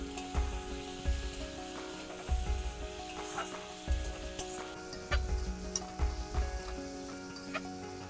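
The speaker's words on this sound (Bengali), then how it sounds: "এবারে সিদ্ধ আলুগুলো দিয়ে দেবো দিয়ে একটু কষে নেবো" Boiled potatoes being stir-fried in a spice masala for a Bengali egg and potato curry: a steady sizzle with repeated scraping stir strokes of a spoon in the pan, close and fairly quiet, with no talking.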